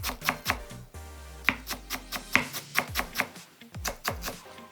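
A knife chops myoga finely on a cutting board in quick, steady strokes of sharp, close, loud taps, with no talk over them.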